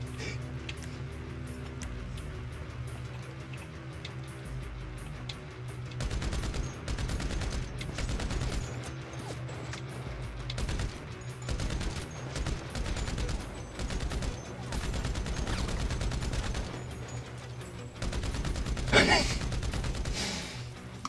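Automatic fire from a combat MG machine gun in Grand Theft Auto V Online, with dense bursts of gunfire over a steady game soundtrack, firing in several stretches and swelling loudest near the end.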